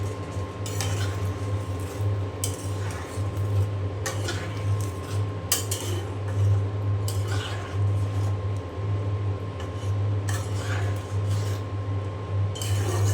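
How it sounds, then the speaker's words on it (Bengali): Fried shrimp and fried eggplant go into a simmering curry: a spoon scrapes and clinks against the pot in repeated strokes over a steady bubbling hum, close and alone. "তা আমি এখন এই যে দিয়ে দিলাম ভেজে রাখা চিংড়ি মাছ আর"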